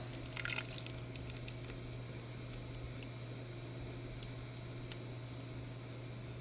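Water drips steadily off freshly washed broccoli draining in a strainer, soft scattered patters over a constant low fan hum, no talk.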